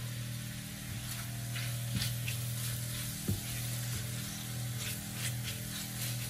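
Shrimp cooking in a pan with a little added olive oil over a raised flame, a low, fairly quiet sizzle with a few soft clinks and knocks of utensils against the pan.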